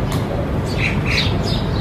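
Harsh bird squawks repeat several times over a steady outdoor background hiss, fairly close and loud.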